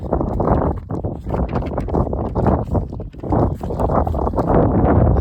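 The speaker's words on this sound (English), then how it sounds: "It's a little windy up here" Strong gusts of wind buffet the microphone on a mountain summit in heavy, uneven low rumbles, loud and close throughout.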